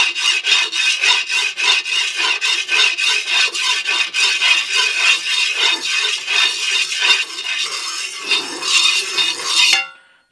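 A fork rubs back and forth across a Granite Tuff granite-coated nonstick pan, making a loud, rhythmic rasping scrape with a steady run of strokes for about ten seconds before it stops abruptly. No one speaks.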